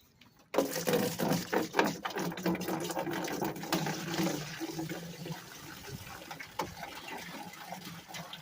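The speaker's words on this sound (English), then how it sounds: "We're going to pour in another gallon of trans-shem muriatic acid." A gallon jug of muriatic acid poured into a bucket, a loud close gushing and glugging stream that starts abruptly, pulses as the jug vents air, then tapers to a trickle.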